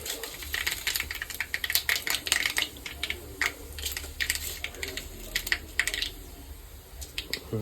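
Close, busy crackling of mustard seeds bursting in hot oil, a rapid irregular run of sharp pops that thins out slightly toward the end.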